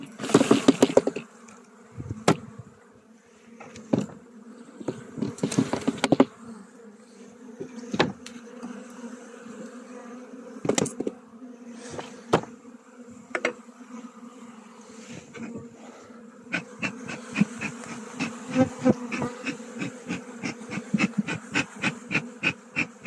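Honeybees buzz steadily around hive frames during springtime work on a weak colony, with repeated sharp knocks and scrapes of wooden frames being handled close by.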